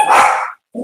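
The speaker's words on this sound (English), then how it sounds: "Our dogs are going to start barking." Single loud, close dog bark from household dogs reacting to a coyote outside at night, followed by a brief lower second yelp.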